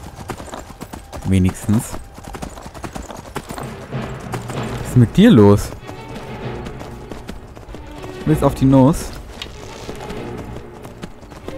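A horse in Skyrim clip-clops in short bursts of hoofbeats that come and go amid the game's ambience, fairly loud and near, with someone talking over them.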